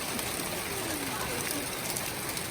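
Steady, dense hiss of rain falling continuously, even and unbroken throughout, with no distinct voices standing out.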